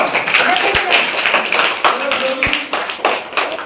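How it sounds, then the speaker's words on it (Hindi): A small group claps at a farewell gathering, with uneven, scattered hand claps and a couple of sharper strikes mixed among voices talking in the room. "तालियां बजा दो"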